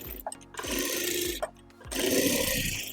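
Sewing machine stitching a seam on a kurti, running in two loud sustained bursts separated by brief pauses, close up with no talking.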